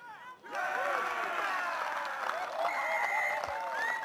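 A crowd at a school rugby match between St John's Hamilton and Wesley College roars and cheers loudly, a sustained wash of voices with whistling tones, under a commentator's talk.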